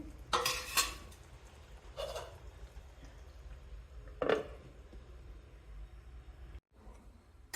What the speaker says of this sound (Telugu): కొత్తిమీర వేస్తున్నాను, మూత పెట్టేస్తాను